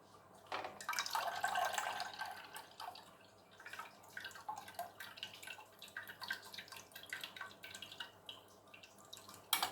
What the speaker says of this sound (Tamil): இந்த மாதிரி ஒரு வடிகட்டியில் ஊற்றிட்டு நல்லா வடிகட்டிடலாம்